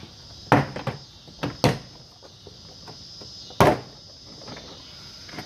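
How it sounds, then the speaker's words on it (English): Plastic trim clips snap loose one after another as a door panel is pried off a 2005-10 Scion tC, sharp close pops spaced irregularly among quieter rubbing and handling noises. "just slide your hand up and pop all your clips loose, up the door, down the bottom, and up the other side"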